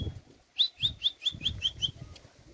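A flock of pigeons bursting into flight near village houses, giving soft low wing flaps along with a quick run of about seven bright, evenly spaced chirps, fairly close and with no talking.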